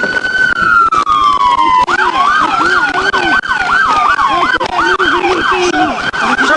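Ambulance siren on a road during a motorcycle police chase, a loud close wail sweeping down then switching to rapid repeating yelps over engine and road noise.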